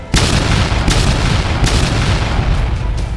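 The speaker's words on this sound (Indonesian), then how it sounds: "Setiap benturan menghasilkan ledakan kecil yang mengguncang tanah." Loud, dense rumbling booms and blasts, like small explosions shaking the ground during a dragon-clawed fight in an Indonesian audio drama, rolling continuously with sharper hits recurring every second or so, with no speech.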